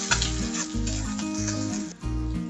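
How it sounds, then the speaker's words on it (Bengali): Chopped garlic and ginger fry in a pan with onions, a steady close sizzle with faint stirring scrapes, heard alone without talk. "এগুলোকে একটু ভেজে নেব, কাঁচা গন্ধটা যাওয়া পর্যন্ত।"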